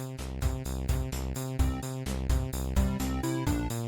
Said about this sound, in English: And so Moonrover music sounds like this.